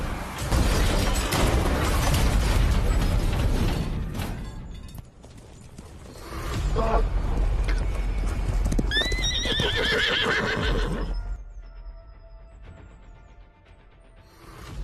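Horse hooves clip-clopping and a horse whinnying during a mounted chase in a Tibetan village, loud and close, with a dense rumbling stretch at the start, a high neigh near the middle and quieter hoofbeats toward the end.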